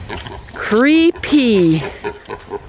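A pig in a barn lets out two loud, rising-and-falling squealing grunts close up, separated by a short pause. A person also speaks briefly.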